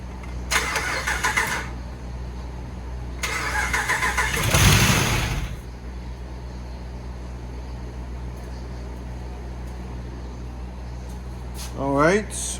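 A Hemi 5.7 V8 cranks in two short bursts, then fires for a brief, louder start of about a second before shutting down, leaving a low steady hum and a short rising whine near the end.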